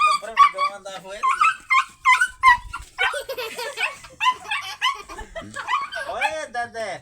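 A dog yips and barks in quick bursts while being chased by a pig, with people laughing and talking close by over the commotion.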